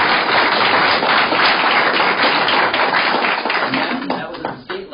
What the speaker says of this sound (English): let's give a big round of applause to Brad Oder for what he was given